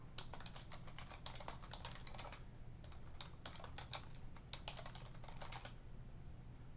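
Quick bursts of keystrokes on a computer keyboard as a Linux package update command is typed, close and clear, with short pauses between runs of clicks over a steady low hum.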